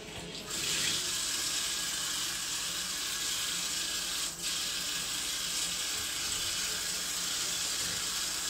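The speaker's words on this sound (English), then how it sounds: "start rinsing out directly in the sink" Steady running water from a tap splashing into a sink as a wig is rinsed, a continuous hiss with one brief dip partway through.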